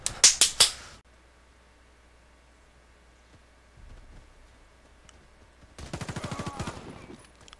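Three sharp pistol shots crack in quick succession in the Warface video game, followed by a long quiet stretch, then a dense rapid burst of gunfire near the end.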